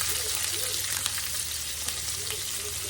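Collard greens fry in a skillet with a steady, close, dense sizzle and crackle that continues evenly with no talking.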